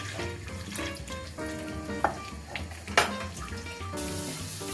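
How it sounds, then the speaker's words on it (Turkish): Water from boiled potatoes pouring out through a strainer in a kitchen sink, a steady rushing splash running throughout with a couple of sharper clatters. "Şimdi patatesimizi süzelim. Böyle süzüyoruz arkadaşlar."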